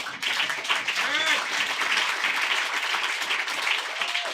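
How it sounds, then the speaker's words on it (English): Audience at a Los Angeles book launch gives warm applause, steady clapping from a modest crowd with a few voices calling out over it. "well-deserved applause"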